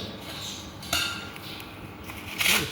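Coarse country salt poured into a cooking pot, heard as a few scattered gritty rattling bursts at moderate volume, with no talking.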